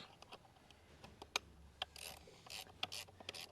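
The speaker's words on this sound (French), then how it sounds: "Et donc là, Nico est en train de serrer la tête de puits étanche" Screws are tightened on a sealed wellhead cap fitted with an O-ring and four compression screws, giving quiet scattered ratchet clicks, scraping and rubbing taps in an uneven rhythm, close but faint and without voices.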